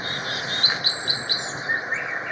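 A thrush sings a short series of clear, high whistled notes, about five evenly spaced phrases, over a faint steady insect hum.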